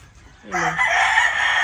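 A rooster crows once at close range on a farm, a loud, sustained harmonic call that rises and holds steady to the end over a faint background.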